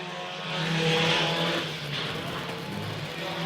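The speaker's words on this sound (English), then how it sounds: "Robert Kissam in the 911 car trying to run the big 60 down" Race cars roar around a track at a heat race at the Everglades-Swamp Cabbage event, engines droning loud and continuous, swelling and easing as the pack passes.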